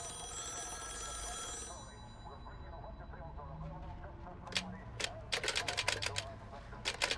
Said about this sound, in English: Someone answer the phone, damn it.